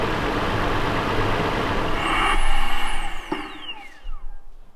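A Toyota 4Runner engine idles steadily after an oil change, a low continuous rumble with a passing vehicle sweeping by midway and a short sharp burst near the end.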